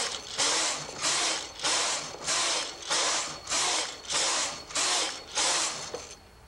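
A knitting machine carriage is pushed back and forth across the bed, knitting rows in about nine steady, loud whooshing passes with a mechanical ratcheting clatter, each stroke about half a second long with short pauses between.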